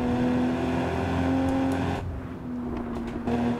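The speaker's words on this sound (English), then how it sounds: "I don't hear a supercharger behind me. Oh, now I do. Loud ass supercharger." Supercharged car engine in the Assetto Corsa racing game whines with a sustained tone over a loud, rough engine drone, dipping briefly partway through before surging back, with no speech.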